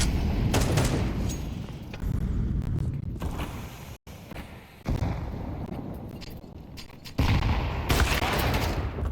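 Grenade blasts and bursts of gunfire in a competitive first-person shooter match: loud, sharp volleys of shots in clusters, with a short silence midway before more firing resumes.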